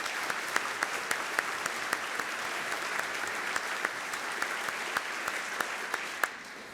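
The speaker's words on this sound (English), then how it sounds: "could I just say a round of applause, please, to David" A room full of people claps steadily at the Oxford Union during a farming conference debate, a sustained round of applause with a few sharper claps standing out.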